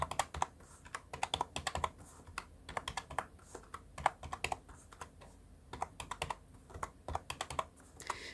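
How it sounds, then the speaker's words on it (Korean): Rapid typing of numbers on a computer keyboard while entering decimal values in Hancom Hangul 2022 for an ITQ exam, a dense run of close, crisp key clicks in irregular bursts with no talking. "저는 역시 방향키로 이동하면서 숫자를 입력하고 있습니다"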